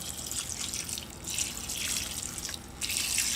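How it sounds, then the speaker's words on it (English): Water poured evenly over mung bean sprouts, a steady splashing trickle with soft drips, close and fairly quiet, no voices. "you just take your water and just water all evenly"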